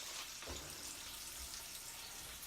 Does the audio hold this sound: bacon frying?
yes